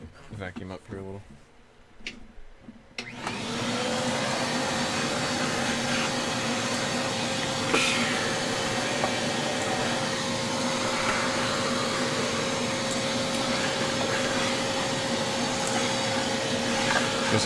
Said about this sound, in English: Vacuum up here a little.